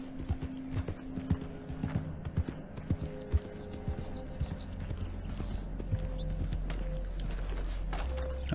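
Horse hooves clip-clopping in Red Dead Redemption Online, a steady string of close hoof clops with a brief whinny, over a low droning hum that thickens toward the end.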